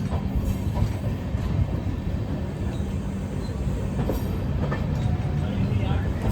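A train arriving at Bareilly Junction beside the rail yard, with a continuous low rumble and rolling wheel noise at moderate distance and faint scattered clicks and squeals on top.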